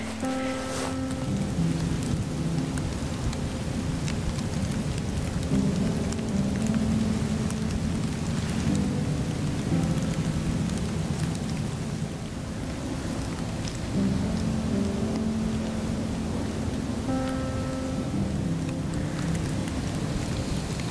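Steady rain falls near the frozen shore of Lake Erie in late winter, a continuous close patter with a faint low rumble underneath and no voices.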